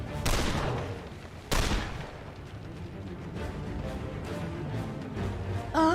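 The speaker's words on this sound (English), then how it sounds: "Alright, we're gonna shoot you" Gunshots in The Lamplighters League on PC: two sharp, loud blasts early on, followed by a rumbling volley of fainter rapid shots and echoes, with no talk over them.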